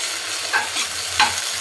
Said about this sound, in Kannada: ಸ್ವಲ್ಪ ಹಸಿ ಖಾರ ಹಾಕ್ಕೊಂಡು ಚೆನ್ನಾಗಿ ಬಾಡಿಸ್ಕೊಬೇಕು